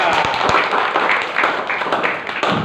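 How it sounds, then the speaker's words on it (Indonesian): Classroom applause for a student group, a dense wash of many hands clapping at close range, steady and loud throughout with scattered sharper claps. "tepuk tangan untuk kelompok 2"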